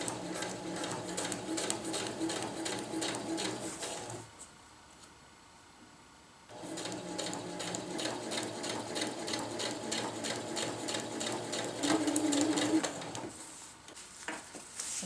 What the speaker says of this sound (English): I'm just going to sew straight along